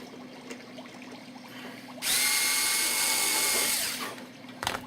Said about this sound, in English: now I'll drill through this one